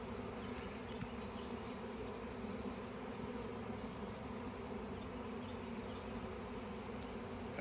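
A massive swarm of honey bees buzzing all around, a thick continuous drone that stays close and steady throughout, with no talking.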